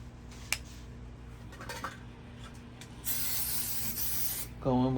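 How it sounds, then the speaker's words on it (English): Fixer hairspray sprayed onto freshly set vertical curls, a single sustained close hiss of about a second and a half following a few small handling clicks and rustles, then a brief tonal sound at the end. "Go in with some more Fixer hairspray."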